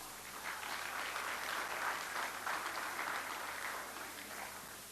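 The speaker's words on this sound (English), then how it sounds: "Can we please hear a huge round of applause?" Audience applause at a property launch event, a steady, fairly faint wash of clapping from a crowd that holds evenly throughout.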